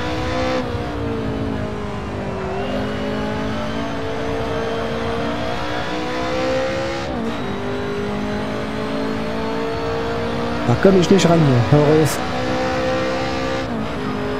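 Race car engine in the racing sim Assetto Corsa Evoluzione, droning and revving steadily throughout with shifts in pitch and a brief burst of tire noise near the end, while someone speaks briefly over it.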